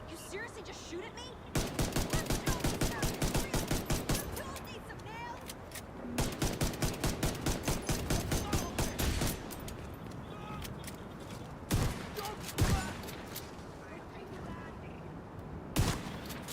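Automatic gunfire in The Division 2, with rapid bursts near 2–4 s and 6–9 s, then scattered single loud shots toward the end, all over a steady background bed.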